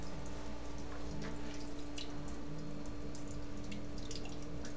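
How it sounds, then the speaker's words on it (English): Water drips from a leak indoors, faint scattered plinks over a steady electrical hum and low background noise, irregular and fairly quiet with no one speaking. "I hear a drip coming from over here."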